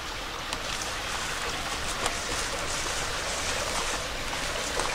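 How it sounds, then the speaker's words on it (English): Water bubbles and trickles out of the ground inside an old slate-roofed spring house, a dense, steady close wash of splashing flow with no talk. "You can hear the water just bubbling out everywhere."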